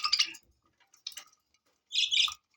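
Pet budgerigars kept indoors through winter chirp in short, bright bursts with quiet gaps between them, close and fairly clear.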